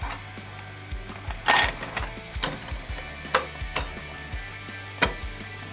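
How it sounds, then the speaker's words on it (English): A Dynojet clutch compressor compresses a Polaris Sportsman clutch with a run of close, crisp ratcheting clicks. A sharper metallic clink sounds early on, followed by steady, evenly paced pawl ticks. "And we're going to go ahead and compress the clutch."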